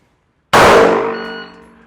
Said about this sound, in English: So draw and fire 1 from the 5-yard line.